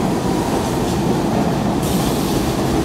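A New York subway Q train roars loudly at close range, a dense steady rumble of wheels and carriage noise with a faint high squeal near the end, no speech.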